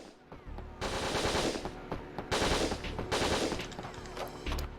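Bursts of rapid gunfire from the Winback: Covert Operations video game, several loud volleys of repeated shots separated by brief lulls, with no talking.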